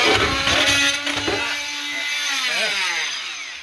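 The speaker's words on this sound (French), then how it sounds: "On va y rentrer une petite mèche dans le fond." A small drill bit bores into the thick wood of a C&C 36 sailboat's chainplate area, giving a close, steady grinding whir that slows and fades toward the end.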